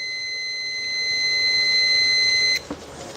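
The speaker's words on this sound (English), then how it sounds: "you put it to continuity. And you're going to hear a beeping sound." A multimeter set to continuity mode gives a steady, shrill electronic beep for about two and a half seconds, then it cuts off abruptly and only faint room noise remains.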